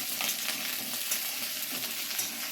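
Dalia with cauliflower is stirred while frying in a pan, giving a steady close sizzle with soft scraping and shuffling from the stirring throughout.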